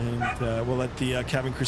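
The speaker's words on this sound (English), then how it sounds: "Sorry for the dogs, guys. My dog is just on cue." A pet dog barking and yipping in a home, several close, loud barks in quick bursts with someone talking over them.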